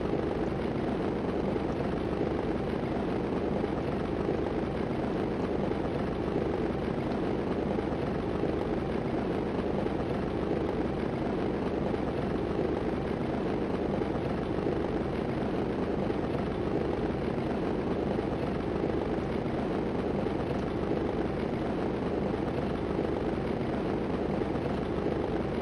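Continuous drone of a stunt plane's engine in the Stunt Island flight game, a steady, loud, unchanging propeller hum filling the whole stretch with no talk over it.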